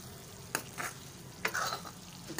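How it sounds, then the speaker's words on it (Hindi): A spoon scrapes through Afghani beef karahi with homemade garam masala in a pan, a few brief stirring strokes over a faint, steady sizzle, close and quiet, with no voices. "अब इसको मिक्स कर लेंगे"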